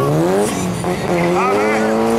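An Ι Toyota Corolla drift car from Chios runs at a drift show, its engine note rising and falling loud and close with tire squeal, while an announcer talks over it.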